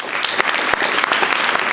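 Audience at a school debate between Mumbuni Boys and Makueni Girls clapping steadily, a dense, continuous burst of applause filling the room with no voices over it.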